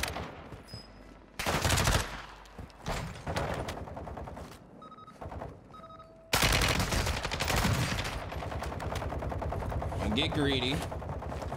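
Automatic fire from an MP5 submachine gun in the Warzone video game, loud rapid bursts broken by short pauses, then a long sustained burst near the end, with a voice speaking briefly amid the shots.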